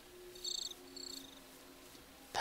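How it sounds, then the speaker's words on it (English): Minecraft crickets from the Life in the Woods Renaissance modpack chirp in short, high, thin bursts, two quick trills early on, then a brief sharp noise at the end, all quiet and alone. "Crickets! Run away, crickets!"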